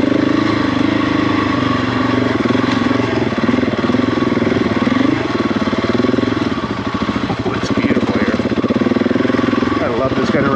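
Heavy motorcycles riding off-road in the Moab desert, a loud, continuous engine drone with rumbling, pulsing throttle changes, heard close from the bike itself with wind noise and no pauses.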